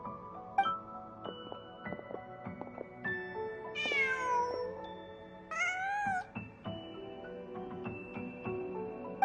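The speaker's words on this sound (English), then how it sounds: "Just a cat." Cat meowing in Genshin Impact, a few clear drawn-out meows over a soft game music backdrop with tonal chimes.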